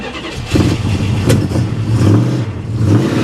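Engine of a flood-damaged 1973 Plymouth Scamp catching and revving as the gas pedal is pressed, a loud close rumble swelling and settling in uneven surges.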